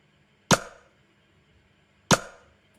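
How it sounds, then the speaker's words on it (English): Two separate layered snare hits, a reverb snare with a snappy snare, each a sharp crack with a short reverberant tail, spaced well apart with near silence between them. "one more reverb kind of snare and one more snappy snare"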